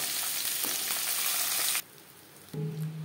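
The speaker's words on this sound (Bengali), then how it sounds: "পরের মাছ একইভাবে ভেজে নেব।" Pomfret fish fry in hot oil with a loud, dense, hissing sizzle that cuts off abruptly, then a quieter hum follows before a lower bubbling fry starts again.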